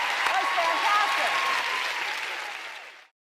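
Audience applause for a children's play about tooth decay, a steady wash of many hands clapping that holds for about three seconds, then fades and cuts off.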